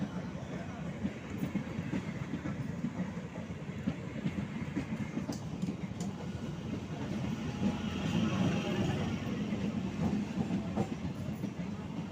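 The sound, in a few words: train passing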